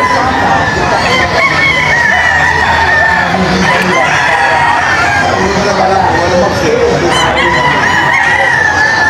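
Kelso hens and roosters at a crowded cockfighting fiesta cluck and crow loudly and continuously up close, with a bustling crowd and voices mixed into the background.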